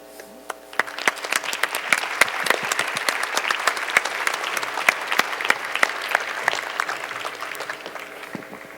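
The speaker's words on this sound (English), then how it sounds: "one more applause, please" A conference audience applauds the panelists, starting abruptly after a brief quiet moment and then holding a loud, dense stream of many hands clapping for about eight seconds.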